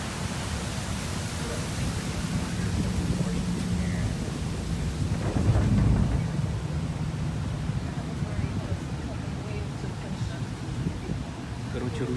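A steady broadband roar of Thunder Falls in Dogwood Canyon heard from nearby, with a low rumble swelling briefly midway.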